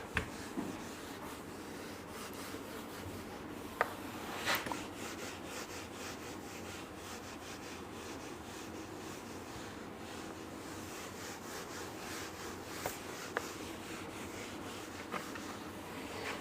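A board in a maths classroom is rubbed clean, making a faint continuous scrubbing and scraping with a few light knocks scattered through it.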